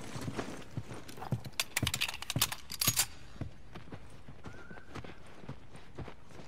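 Horse hooves clip-clop in The Last of Us Remastered, an uneven, fairly close run of hard knocks, busiest early on, then slowing to scattered steps with a brief whinny-like tone.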